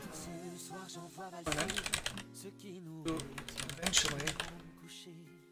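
Computer keyboard typing comes in quick bursts of clicking keys, close and fairly quiet, with pauses between runs while someone speaks briefly and music plays softly underneath.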